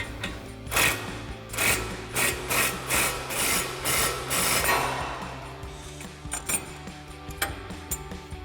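A socket wrench with a swivel and extension works a suspension bolt on a 2021-2025 Ford Bronco, making a close series of rhythmic metallic ratcheting bursts that slow and scatter toward the end.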